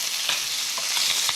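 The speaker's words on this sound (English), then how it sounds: "Kind of just move it around in the butter a little bit." Fish fillets from an ice-fishing catch fry in butter in a pan with a steady close sizzle and a few soft stirring scrapes as they are moved around.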